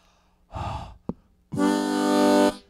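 A short breathy puff, a tiny click, then a full sustained harmonica chord held for about a second, close and loud.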